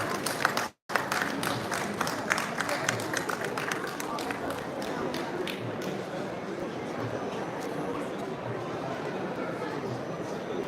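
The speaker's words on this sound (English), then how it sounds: "Let's give them a huge round of applause," An audience applauds authors on stage at a book fair felicitation ceremony. Dense, sustained clapping from a crowd in a hall fills the whole stretch at moderate distance after a brief cut near the start.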